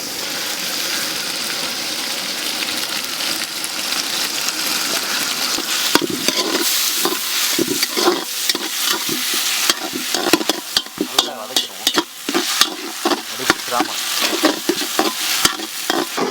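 Tomato and ginger-garlic paste frying in a pot for chicken biryani, a loud steady sizzle with dense bursts of spoon scraping and stirring clatter growing busier over time, close up and free of speech.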